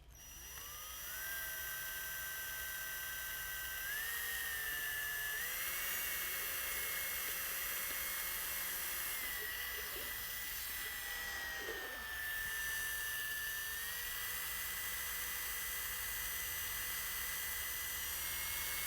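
A drill mixer runs continuously, whining at a steady pitch that dips and shifts under load, as it mixes Terrazzi sprayable polished concrete with satin additive, sustained and fairly close, with no speech.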